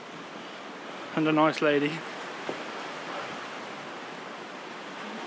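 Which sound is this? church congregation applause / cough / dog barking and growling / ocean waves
ocean waves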